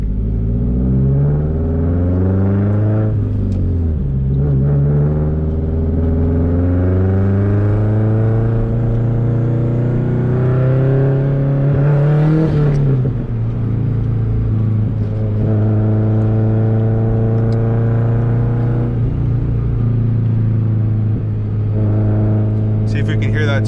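A 2004 Subaru WRX STI with a new clutch makes gentle pulls on a night drive. Engine pitch rises and falls through several gear changes over a constant cabin drone, with no voices over the engine.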